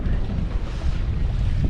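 A sailboat close-hauled at about four knots just past Cap Créus, with a constant low rumble of wind buffeting the microphone and water rushing along the hull, no voices.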